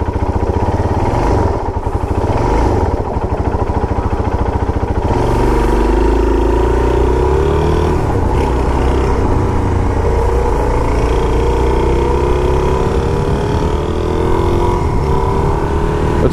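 Supermoto motorcycle riding on the road, its engine a loud, continuous drone with rising and falling pitch as it accelerates and shifts, steady throughout without speech.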